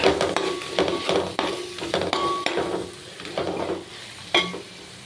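A spoon stirs mint and coriander sizzling in a pan for chicken fry, a steady frying hiss broken by repeated metallic scrapes and clinks against the pan, close and moderately loud.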